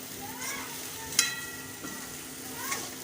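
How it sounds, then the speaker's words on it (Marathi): Okra sliced for a quick bhindi stir-fry hisses softly in a pan as it is tossed, with faint crackling and a couple of brief utensil clinks against the metal. "आता ही भेंडी टाकते, असं परतून घेते"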